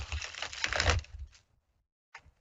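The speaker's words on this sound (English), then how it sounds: "Let's shuffle them up." A deck of psychic reading cards shuffled close by in a short burst of papery clicking and flicking, then silence and one brief final tap.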